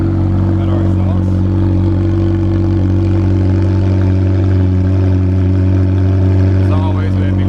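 Loud, steady low exhaust rumble from a 2019 Dodge Challenger Widebody Hellcat Redeye, idling close to the microphone with a constant deep drone throughout and no talk.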